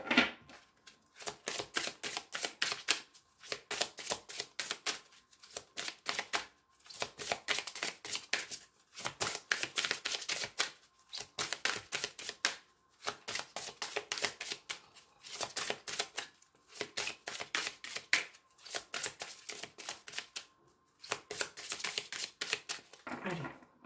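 A deck of cards for a card reading being shuffled over and over in rhythmic bursts of rapid riffling clatter, each lasting a second or two and separated by short pauses, close and moderately quiet.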